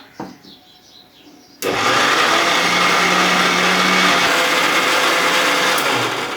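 After a quiet moment, a mixer grinder blending solkadi masala with water switches on abruptly and holds a loud, continuous whirring roar until the end.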